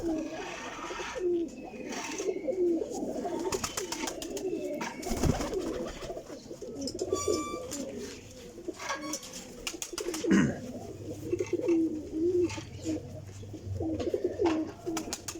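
Golden and Sialkoti pigeons coo steadily in a loft, soft repeated throaty calls layered over one another, with occasional wing flutters and faint background noise throughout.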